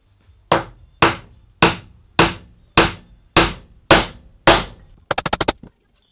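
Wooden splines are hammered into walnut and maple stool legs: eight evenly spaced, solid knocks, close and loud, followed by a quick burst of about six light, rapid taps.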